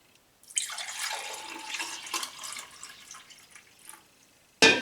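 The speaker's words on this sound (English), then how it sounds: "I can just pour some up here so you can see it" Kefir whey pours and drips steadily from a container for about four seconds, a bright, splashy liquid stream with no talking, ending in a sharper clatter.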